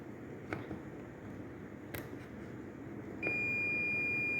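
Multimeter continuity test on a switch contact, a few faint clicks and taps of the probes and then a steady, sustained high electronic tone that continues to the end, close and clear with no talk.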